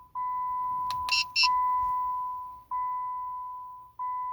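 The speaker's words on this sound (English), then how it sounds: "wait for a few seconds until you hear the beeping sound indicating programming is successful" Dodge Ram 2500 (2007–2009) chiming after key fob programming: a steady electronic tone sounding three times with brief gaps, plus a couple of quick higher bleeps early on, clean and close in a quiet cab.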